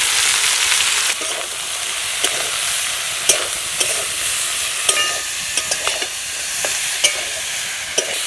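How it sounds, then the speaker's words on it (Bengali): Malabar spinach with salt and turmeric sizzling in a pan, a continuous hiss of frying broken by sharp clinks and scrapes of a spoon stirring the greens at irregular intervals. "সবজিগুলো দিয়ে দিয়েছি। এবার ভালো করে একটু নাড়াচাড়া করে নেব।"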